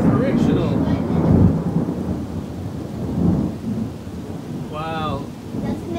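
Thunder rumbles heavily and close alongside steady rain, loud and continuous, with a brief voice surfacing near the end.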